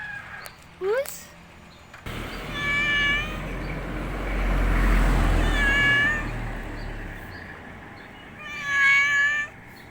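A ginger roadside cat meows several times in the early morning, with clear, fairly close meows standing out against steady outdoor rumble; a voice imitates the meows.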